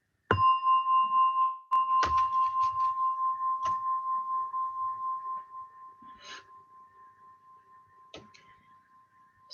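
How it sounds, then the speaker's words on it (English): A meditation gong is struck once, then struck again and left to ring, its long shimmering tone slowly decaying under faint scattered room noises and small knocks. "as you hear the gong, and we'll start."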